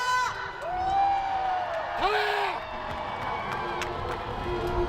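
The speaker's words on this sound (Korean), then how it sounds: "힘찬 함성 시작!" A crowd at a street impeachment rally in Daegu gives a long, sustained cheer. Shouts and whoops rise and fall in a steady wash, and a few voices stand out as they slide in pitch.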